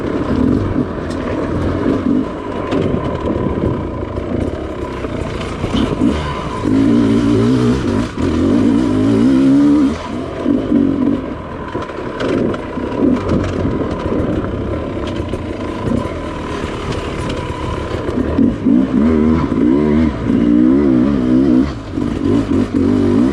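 A Sherco dirt bike engine on a test ride in second gear, cruising uphill, revs in repeated surging pulls that rise and fall, loud and close with mechanical clatter and no talking.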